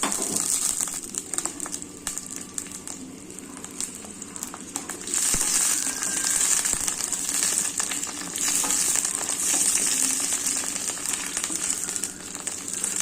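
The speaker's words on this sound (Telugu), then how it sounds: "పచ్చిమిరపకాయలు వేయించుకుందాం." Green chillies fry loudly in hot oil, a continuous bright sizzle with crackling that swells and eases, close up and without talk.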